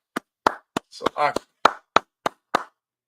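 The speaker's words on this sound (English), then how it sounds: "Go ahead, clap it up." A few people clapping in a religious class gathering, about nine distinct, well-spaced claps, close and crisp, with a short voice in between.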